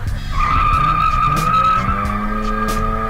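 Tires skid continuously through a car drifting run on the South Course at an RSD event, with a steady high squeal over a droning engine. The sound is loud and close and sustained for the whole run, with no voices.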